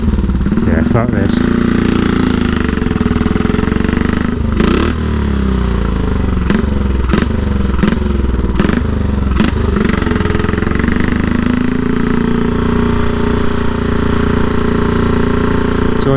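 A 1934 Velocette KTT motorcycle idles loudly and steadily up close, with a lumpy single-cylinder beat and occasional blips of throttle, while someone talks over it.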